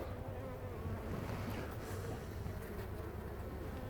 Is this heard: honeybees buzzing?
yes